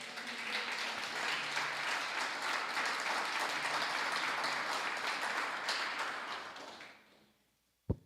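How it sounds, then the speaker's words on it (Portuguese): A church congregation applauds the Lord during a sermon, a dense, steady wash of clapping from many hands that holds for about seven seconds, then fades out before one sharp close knock at the end. "Vocês podem aplaudir o Senhor por isso?"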